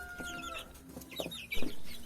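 Soft clucks and peeps from young chicks come in short scattered bursts, close by, with a faint steady hum in the background.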